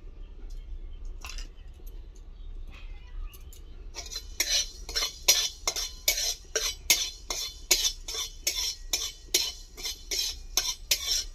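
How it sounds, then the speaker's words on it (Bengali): A spatula or spoon stirs whole cumin and coriander seeds with a little salt as they dry-roast in a pan, giving a rapid run of sharp, regular scraping rattles after a few quieter scattered clinks. "গোটা জিরা ধনা ভেজে নেব"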